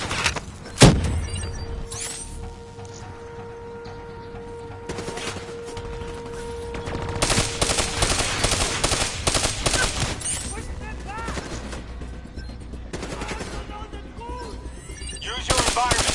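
Gunfire in the video game Call of Duty Black Ops 3 comes as a sharp opening shot followed by bursts of rapid automatic fire and thuds, loud and close, with in-game voice lines and background sound between volleys.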